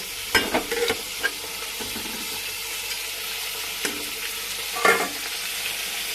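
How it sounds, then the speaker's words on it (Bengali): Rice and lentils poured and stirred into hot water in a pot for khichuri, with scattered scraping and clatter over a steady low bubbling background. "আমি এবার চাল ডালটা সব দিয়ে দেবো।"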